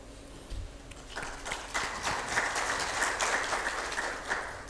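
A crowd at a road safety award event in Marrakech breaks into a round of applause, dense clapping building after a second and holding steady at moderate distance, with no talk over it.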